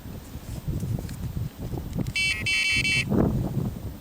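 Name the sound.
radar detector beeps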